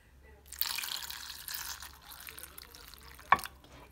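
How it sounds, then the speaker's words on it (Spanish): Water pours from about half a second in with a splashy, bubbling hiss that runs steadily for several seconds into a pot holding tomatoes and three chiles de árbol for a Mexican salsa, ending with a brief clink near the end. "Ahora le vamos a agregar agua."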